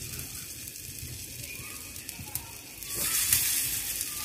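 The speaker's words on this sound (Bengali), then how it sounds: "ছোট ছোট করে আলুর বড়া দিকে আমরা কড়াইতে দিচ্ছি।" Small potato pakoras are dropped into hot oil in a wok, giving a faint, steady sizzle that swells into a brighter, louder hiss partway through.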